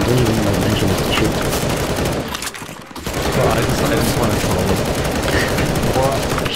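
Dense automatic gunfire rattles almost continuously in CS:GO Zombie Escape on the ze_johnny_nukem map, loud and close, with a brief dip in the barrage near the middle before it resumes, voices talking underneath.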